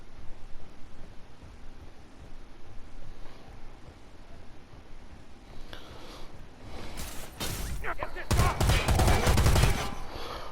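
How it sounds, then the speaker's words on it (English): Gunfire in the video game Predator Hunting Grounds as computers are shot up: a loud burst of rapid shots builds toward the end over steady background noise, with no talk. "Let's blast the computers."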